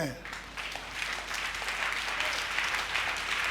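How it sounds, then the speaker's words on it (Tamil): Church congregation at a Sunday service clapping together, a fairly quiet, even patter of many hands with a voice faintly mixed in near the start. "கைத்தட்டுங்க."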